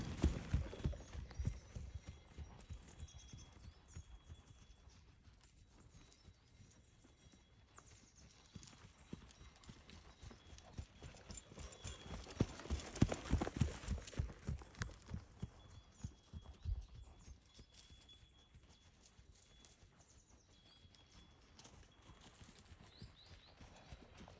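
A horse walks into an indoor riding arena at a training session, its hooves giving a steady, moderately close clip-clop rhythm throughout, with no talk over it.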